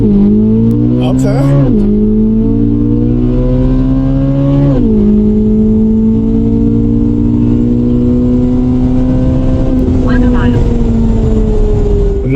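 A Corvette C8 Z06 with an Eventuri air intake and Soler Performance throttle body revs loudly during a launch, its engine note climbing in pitch through steady harmonics with a brief dip and surge, while a voice speaks briefly.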